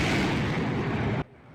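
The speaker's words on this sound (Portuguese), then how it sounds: "Esse vídeo mostra o momento em que um prédio foi atingido na madrugada desta terça-feira. A explosão deu início a um incêndio." A drone strike hits a residential building at night near Moscow, a loud, sustained rumbling blast that roars for over a second before cutting off sharply into a faint low tail.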